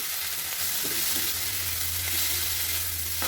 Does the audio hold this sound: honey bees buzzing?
no